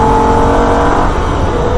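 A Holden race car at full throttle on a record lap of the Nürburgring gives a loud, continuous engine roar, steady and close, with no talking over it.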